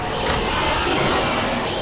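In the Roblox game Doors, the Rush monster surges past with a loud, sustained roaring rush of noise. The sound holds steady and close the whole time, with no voices.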